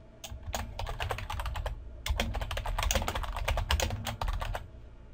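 Fingers type quickly on a computer keyboard, a dense close run of crisp key clicks in bursts with a short gap near the middle, no voices.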